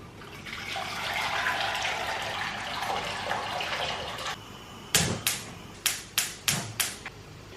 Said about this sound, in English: The water is now on to boil.